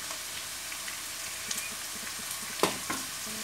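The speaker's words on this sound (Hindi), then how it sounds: "प्याज को हल्का सा हमने सौते कर लिया। अब इसके अंदर डाल देते हैं लहसुन का पेस्ट।" Onions and garlic paste sauté in a pan with a soft, steady sizzle, broken by a few light stirring knocks near the end.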